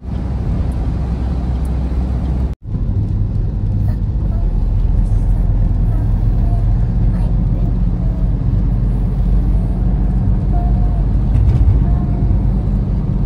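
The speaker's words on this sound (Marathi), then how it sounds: "आता मला ट्रकच दिसतंय" Heavy trucks rolling along a wet road near Ramtek in rain, a steady loud low rumble of passing engines and tyre hiss that drops out briefly, with people talking over it.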